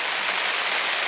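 Rain drums on a roof during a winter pike fishing session at Billingford fisheries, a dense, even hiss of countless drops, loud and steady with no voices.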